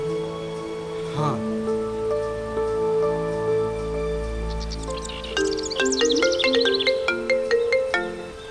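A mobile phone plays a melodic electronic ringtone, a sequence of clear chiming notes over a sustained backing tone, fairly loud and close, with a brief human vocal sound near the start.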